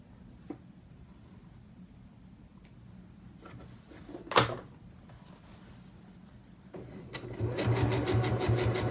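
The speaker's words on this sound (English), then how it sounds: "I'm going to sew over those next few stitches there, and then go ahead and go back." An Ever Sewn 20 sewing machine hems jeans, starting after scattered quiet clicks and a sharp knock, its motor running up into a steady, fairly loud whirring stitch near the end.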